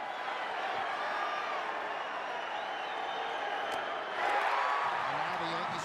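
Baseball crowd at a Yankees at Rockies game, on its feet and cheering during a tense late-game pitch, a steady wash of crowd noise that swells louder toward the end.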